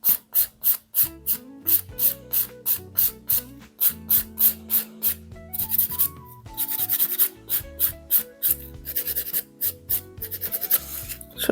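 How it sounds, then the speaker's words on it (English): A file rubbing across a lifted, broken fingernail to thin it out, quick regular back-and-forth rasping strokes, close and fairly loud, with music playing throughout. "And then I'm just carefully filing till all of the lifted parts are gone."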